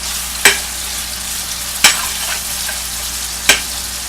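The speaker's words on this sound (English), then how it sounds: "You start stirring it right away because you don't even want it to stick on you." Chicken for a stew with peas sizzles in a pot beneath three sharp scraping stirs spaced about a second and a half apart, close and clear over a constant frying hiss.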